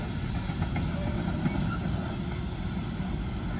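An intermodal freight train rolls past in Hamilton, a continuous loud rumble of cars and wheels with faint squeals, steady throughout.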